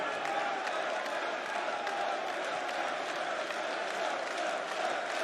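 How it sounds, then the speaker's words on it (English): A packed darts arena crowd at the European Darts Open 2023 semi-final roars and chants a player's name in a steady, dense wall of voices that never lets up. "The crowd chant his name."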